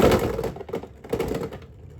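Beyblade X spinning tops launched and clashing in a stadium battle, heard as a string of sharp cracking impacts and scraping clatter, close and fairly loud, with no talk.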